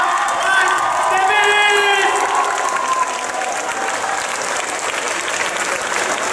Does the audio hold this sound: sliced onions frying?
no